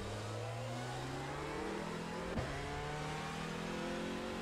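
A Hyundai touring car in a racing video game at Laguna Seca, its engine revving up steadily through the gears with a single brief shift, loud and continuous, with no talking.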